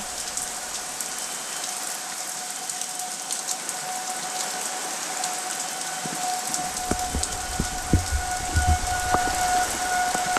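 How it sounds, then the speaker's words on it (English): A civil defense tornado warning siren wails steadily under a rainstorm, its held tone carrying throughout while rain hisses continuously and heavier drops patter closer in the latter half. "Alright, setting the sirens off again."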